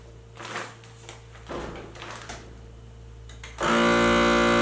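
Soft plastic rustling and handling noises as a bag of crab legs is placed in a vacuum seal bag, then a vacuum sealer abruptly starts with a loud, steady whirring drone that runs to the end.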